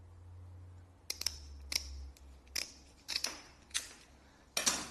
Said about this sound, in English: These are standard scissors, it cuts it perfectly easy